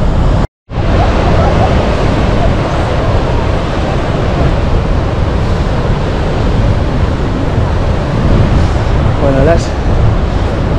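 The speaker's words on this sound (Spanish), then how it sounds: "Mira, las olas gigantes" Giant ocean waves roll in at Praia de Nazaré, heard from a clifftop as a loud, continuous roar of surf heavily mixed with gusting wind buffeting the microphone after a brief dropout at the start.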